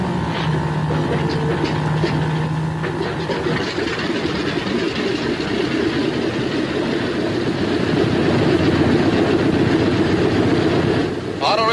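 A 1944 B-26 airplane engine starts up, a rough whining crank giving way to a loud, steady engine roar that builds and holds, with a voice briefly audible.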